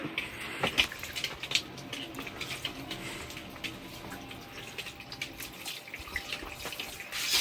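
Water from a water-fed pole rinsing a window, a steady soft spray and splatter with small irregular splashes, fairly faint and without talk.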